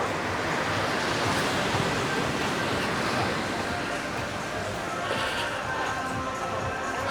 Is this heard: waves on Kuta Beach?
yes